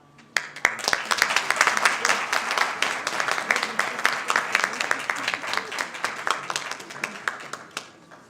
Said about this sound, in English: Let's give him another warm round of applause for a job really well done.